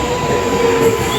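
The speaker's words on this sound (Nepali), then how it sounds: "ट्रेन आइसक्यो" A train pulls into a station with a loud, steady metallic screech from its wheels and rumbling rail noise throughout. No voices are heard.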